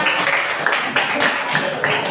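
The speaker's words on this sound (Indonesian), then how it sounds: "Oke, tepuk tangan." A class of students applauding, with many hands clapping together in rapid, fairly even bursts, close by and moderately loud.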